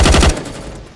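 Gunfire in a shooting video game: a loud, close, rapid burst of automatic shots lasting about a third of a second, then a decaying rumbling tail, with no talk over it.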